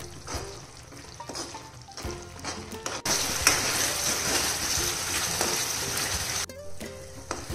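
Chhole masala with tomatoes cooks in a pan, giving a steady close sizzle and frying hiss with occasional stirring scrapes and clatters, and no talking.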